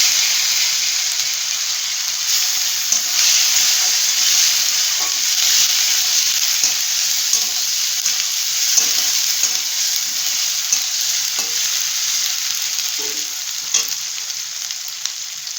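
Chopped tomato and whole cumin seeds fry in a hot pan, giving a steady, bright sizzling hiss that holds throughout, with faint scattered pops and small clicks underneath.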